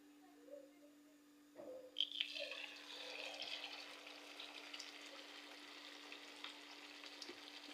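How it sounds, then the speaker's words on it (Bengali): Chicken pieces drop into hot oil in a wok for chicken chap, setting off a steady, close sizzle and bubbling that keeps going after a couple of soft clunks. "এখন এই চিকেনের পিসগুলোকে ভেজে নিব চাপ তৈরি করার জন্য"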